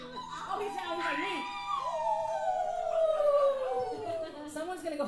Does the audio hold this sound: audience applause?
no